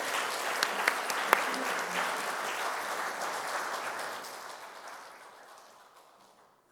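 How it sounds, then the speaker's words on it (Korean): A church congregation claps warmly to welcome a pastor to the pulpit at a Sunday service; the steady applause gradually fades out with no talking. "우리 따뜻한 사랑의 박수로 환영해 주시기 바랍니다."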